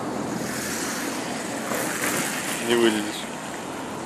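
The Osetr river in spring flood, its high water rushing with a steady broad roar, outdoors with wind buffeting the microphone and a brief voice near the end.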